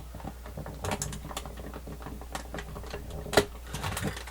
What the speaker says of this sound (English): we have to use this screwdriver then